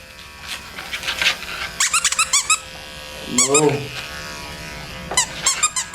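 Electric clippers hum steadily beneath squeaky, whining vocalizations from a blind, deaf, matted dog being groomed, coming in short bursts, close by.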